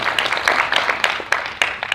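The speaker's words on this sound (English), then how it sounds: "I know you guys want to clap for that." An audience at a congressional candidate debate claps, a crowd's continuous patter with sharp individual claps standing out, moderately loud.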